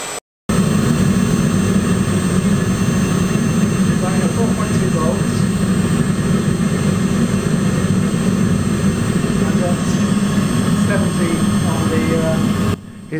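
An upgraded furnace burner roars steadily and loudly throughout, a dense unbroken rush melting bronze, cutting in abruptly after a brief pause at the start and continuing without letup.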